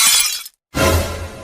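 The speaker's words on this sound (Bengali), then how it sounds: "মোর দামি মোবাইলটা তুই ভাঙি হেলাইলি।" An expensive mobile phone is smashed, giving a loud, close shattering crash with a glassy, breaking texture, then a short silence and a second sustained burst of breaking noise.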